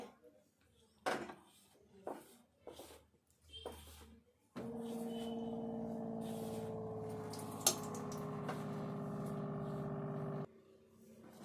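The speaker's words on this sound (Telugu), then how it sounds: "కొంచెం కొంచెం వాటర్ పోసుకొని చపాతీ పిండిలాగా కలుపుకోవాలి." Water is poured little by little into flour while chapati dough is kneaded for aloo paratha. Faint soft handling thumps come first, then a quiet, steady pouring wash lasts about six seconds, with a voice speaking at times.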